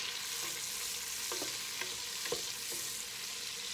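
Onions and garlic sauté in butter and olive oil for jambalaya, a steady sizzle with a few soft spoon scrapes and stirring clinks against the pan.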